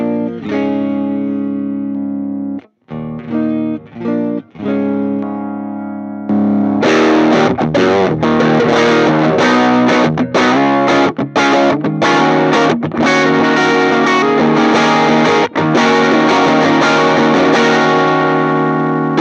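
Electric guitar played clean through a Warehouse G8A Alnico speaker in a birch cabinet, with sparse ringing chords at first, then dense, loud strummed passages with short breaks, no voices.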